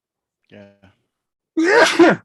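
A single close, loud sneeze follows a brief spoken word in a quiet room.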